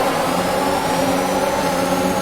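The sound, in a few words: F1 car engines at race start in video game F1 2021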